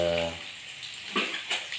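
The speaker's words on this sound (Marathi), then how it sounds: "आता त्याच्या भाजीची फोडणी चालू आहे" A vegetable tempering sizzles in hot oil, a soft continuous hiss with a couple of brief splashy bursts near the end, after a short tonal hum at the start; no one speaks.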